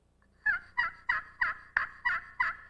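A hickory peg striker drawn across a friction turkey call gives seven hen-like yelps, close and distinct, repeated at an even pace with no voices over them.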